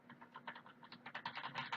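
Keys clatter on a computer keyboard in quick, uneven bursts of clicks, close and quiet, growing slightly denser toward the end, with no talking.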